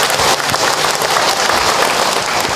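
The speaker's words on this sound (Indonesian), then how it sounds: "Tepuk tangan buat semua bunda yang ada." Loud, dense applause from an audience honoring the mothers present at an Islamic religious talk, steady clapping from many people close by for the whole span.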